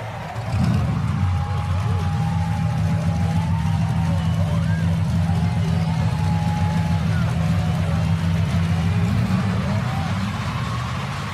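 Race car engines fire up and settle into a loud, steady, low rumbling idle on the Daytona track, a continuous droning roar with a voice talking over it.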